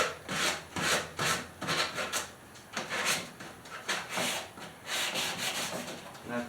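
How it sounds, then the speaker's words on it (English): A palm sander works over the edges of a wooden DIY bookshelf, giving a steady, close scratchy rasp that swells and fades in repeated strokes about twice a second, with no talking. "so now we're just going to do a little palm sanding"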